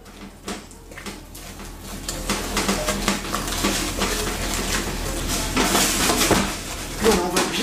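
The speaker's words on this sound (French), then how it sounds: "on va bien les remuer. Moi, je vais travailler avec le fouet" A whisk works through Far Breton batter with prunes in a bowl, making a busy, close stream of scraping, tapping and clinking against the sides that swells and eases over several seconds.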